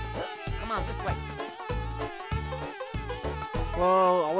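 Cartoonish bees buzz in the video game Conker's Bad Fur Day, a loud, warbling drone broken into choppy pulses that swells near the end, with no voices over it.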